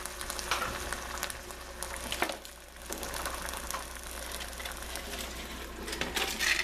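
Beef frying in a pan with kidney beans, a steady faint sizzle and crackle with occasional stirring scrapes, one brief dip in the middle, no talking.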